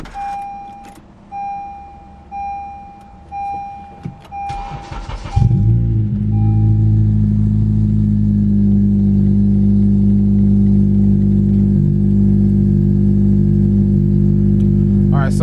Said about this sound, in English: the car started kind of hard